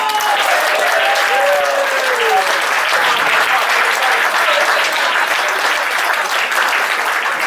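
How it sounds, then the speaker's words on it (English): A dinner audience at a Biggleswade football club awards night applauds its players, a loud, dense wall of clapping that holds steady throughout, with a few whoops and whistles rising above it. "I'd like you at the end to give an applause to Bondi, Jack, Dan Newton, Tyler Joseph and Michael Fisher"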